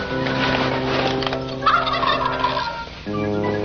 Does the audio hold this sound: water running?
no